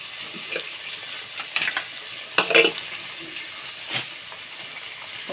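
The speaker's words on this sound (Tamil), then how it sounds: "3 தக்காளி, இப்போ சின்ன தக்காளிங்க போட்டுடலாம். அதையும் நல்லா வதக்கிறீங்க." Tomatoes sauté with onions in a pan for mutton biryani, giving a continuous soft sizzle and hiss broken by a few sharp scrapes and clatters of a stirring spoon nearby.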